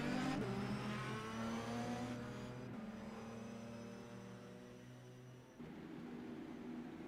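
An IndyCar race car engine in a video game leaving pit lane at Phoenix Raceway, its whine rising and dipping through gear shifts, fairly faint and steady, with no talking.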